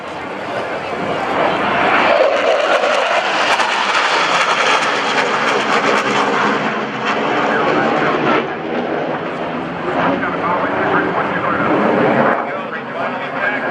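A loud, steady roar of a military jet engine passing by at an air show, broad and sustained throughout, with a voice talking over it.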